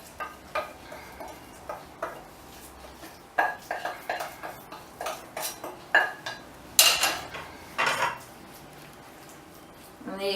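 Heated chunky baby food is mashed in a bowl with a utensil, producing close, irregular clinks and scrapes of metal against the dish, growing louder and busier in the second half.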